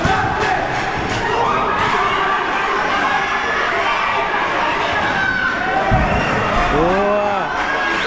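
Fans at a football final of an amateur league tournament cheer and shout as a roaring crowd, loud and continuous, with chants, whistles and individual voices rising over the din.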